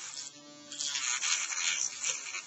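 A rotary tool with a rubber wheel grinds into the plastic seam of a laptop battery pack, a close, high-pitched motor whine that shifts into a harsher, buzzing cutting noise as the wheel bites into the casing.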